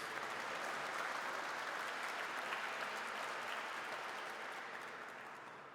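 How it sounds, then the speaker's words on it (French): A French audience applauds the guests present at a formal event, a dense, even wash of clapping from a sizable crowd that holds steady for several seconds before slowly thinning out. "Je vais vous demander déjà de les applaudir pour leur présence"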